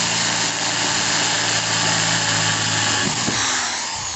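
A power drill bores to enlarge a hole in the metal roof of a 2019 Peugeot Boxer van, giving a loud, steady high-pitched whine that runs unbroken and close throughout.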